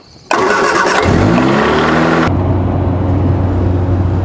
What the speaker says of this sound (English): We are going to start the car and see if it, pushes any through.